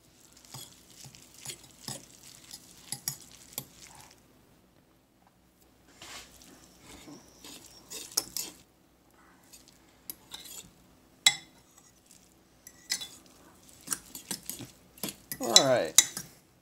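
Cilantro paste being mixed into a foraged purple deadnettle and dandelion pecan pesto in a bowl, heard as soft, intermittent scraping and clinking of a utensil against the bowl in short bursts, with brief pauses in between.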